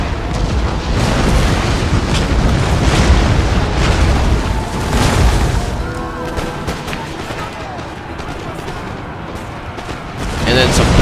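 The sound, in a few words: rocket artillery fire in Napoleon Total War video game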